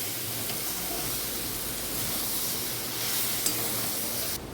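Turmeric and salt fry in a wok over a village cooking fire, making a steady loud sizzle and hiss that runs unbroken from start to finish, with faint stirring and no voices.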